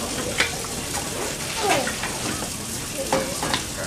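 Steak sizzles and crackles in a pan with a steady frying hiss and a few sharper pops, heard at a cooking demonstration with voices faintly in the background.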